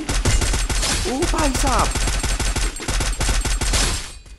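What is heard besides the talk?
gunfire in the video game Garena Free Fire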